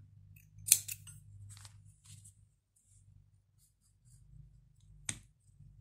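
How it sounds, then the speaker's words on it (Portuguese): Scissors snip crochet thread for a pearl and bead crochet necklace: two sharp, close cuts about four seconds apart against quiet, faint handling noise. "aqui a gente vai cortar o fio"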